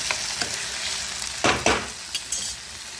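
Onion and tomato sizzle in a pan while a spiced masala for aloo paratha is cooked, making a continuous close frying hiss with a couple of louder stirring scrapes midway and small clinks near the end.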